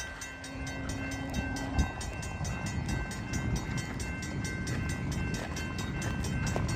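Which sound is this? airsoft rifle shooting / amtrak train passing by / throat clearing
amtrak train passing by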